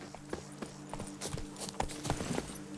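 Horse hooves clip-clopping at a steady trot in The Witcher 3, a regular run of fairly close, moderately loud hoofbeats over a low ambient game bed, with no talking.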